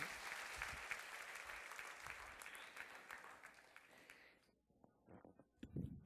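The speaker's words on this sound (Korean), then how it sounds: "여러분 다시 한번 박수로 감사합니다" Audience applause fills a church gathering, a dense and steady roar of clapping for about four seconds before it thins out into a few scattered claps.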